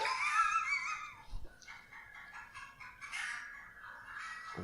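Chickens cluck and squawk close by, with excited, warbling calls rising and falling over a quiet background.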